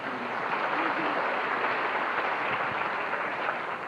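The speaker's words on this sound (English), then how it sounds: "Go ahead and give them another round of applause, please." Sustained applause from a wedding reception audience for the couple, a steady dense wash of many hands clapping at moderate distance without a break.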